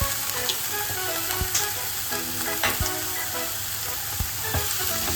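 A soy sauce coating for paneer tikka fries in a pan with a dense, close sizzle and crackle, with a few soft taps and scrapes of stirring and no voices.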